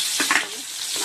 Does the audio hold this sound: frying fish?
yes